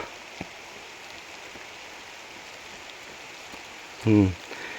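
Steady rain hisses evenly over everything, a soft continuous patter, broken once near the end by a brief voice.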